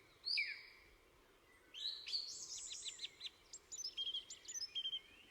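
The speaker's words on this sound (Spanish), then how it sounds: "un mirlo, un zorzal, perdón, que canta" A song thrush sings in a quiet outdoor recording, giving a few clear, high, repeated whistled phrases with short pauses between them.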